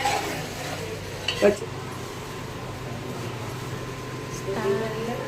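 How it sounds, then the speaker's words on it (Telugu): Onion paste with garam masala fries in a pan, with a steady low sizzle and scattered stirring clinks, including a louder scrape early on, while a voice talks over it. "ఉల్లిపాయ ముద్ద పచ్చివాసన పోయే వరకు వేపాలి"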